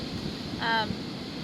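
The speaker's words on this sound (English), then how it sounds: "if I move anywhere it's too windy" Steady wind noise buffets the microphone outdoors, with a brief tonal voice-like sound in the middle.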